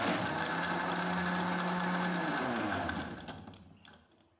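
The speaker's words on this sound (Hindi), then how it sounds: "तो जूस को मैंने अच्छे से ब्लेंड कर लिया है" Electric blender whirring steadily as it blends mixed fruit juice, a loud continuous motor drone that runs for about three seconds, then winds down and fades out.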